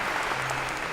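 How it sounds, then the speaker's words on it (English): A short burst of applause from a university lecture audience, dense and steady, heard briefly without any talk. "A round of applause for Aviva for coming on up."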